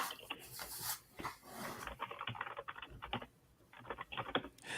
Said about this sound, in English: I hear typing going on.